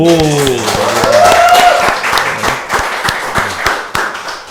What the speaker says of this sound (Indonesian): Itu saya kira orang Betawi kita semua apresiasi, tepuk tangan dong.